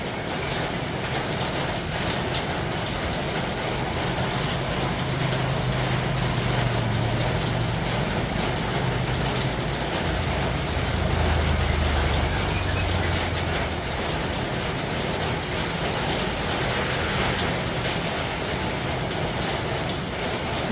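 Steady rain pours down outside a house, a dense, even hiss that holds at the same strong level throughout, with a faint low rumble underneath.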